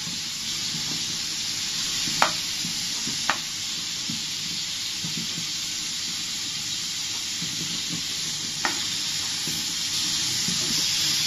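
Dry salted fish frying in oil in a pan for an egg curry, giving a steady soft sizzle throughout with a few faint clicks, and nobody speaking.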